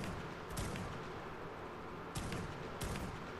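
Gunshots fired at a wyvern in ARK Survival: three sharp reports at roughly 0.6, 2.2 and 2.9 seconds, standing out over a steady, noisy game background.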